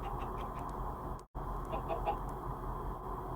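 Chickens in the Minecraft video game cluck in a few short, soft bursts over a steady low background hum, with a brief dropout partway through.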